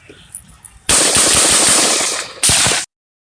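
Single gun firing rapid rounds in a tight burst, loud and close, with a brief pause before a final shot; faint ambient noise precedes the burst.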